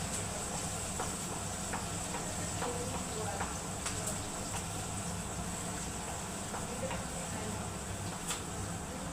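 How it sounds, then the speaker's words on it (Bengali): Onions and green chilies frying in a wok give off a steady, dense sizzle and hiss that holds at an even loudness throughout, with faint crackles. "এবার আমি পেঁয়াজ আর কাঁচা লঙ্কাটা ছেড়ে দিচ্ছি, দেখো।"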